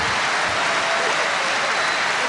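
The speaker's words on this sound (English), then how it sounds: "Crowd noise goes up again." Arena crowd at the Wladimir Klitschko vs Eddie Chambers heavyweight boxing bout in 2010 makes a loud, dense, continuous roar of cheering and applause that swells steadily, with no single voice standing out.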